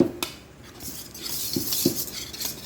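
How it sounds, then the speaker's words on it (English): Small whisk stirring spices into flour in a bowl: soft, irregular clinks and light scrapes of metal against the bowl, a few distinct taps spaced across a quiet background. "I'm just going to take my little whisk here and go in and get all of these wonderful spices whisked into my"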